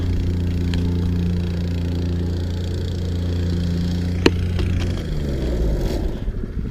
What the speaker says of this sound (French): J'entends un bruit de moteur.